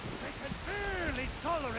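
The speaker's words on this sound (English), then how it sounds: "Oh, it's still raining." Steady rain falls in the video game Skyrim, a constant hiss of drops beneath a voice that talks over it throughout.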